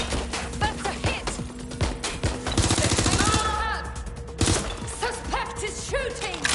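A suspect opens fire in GTA, with dense bursts of close, loud gunshots, a rapid machine-gun-like stretch in the middle and more scattered shots around it.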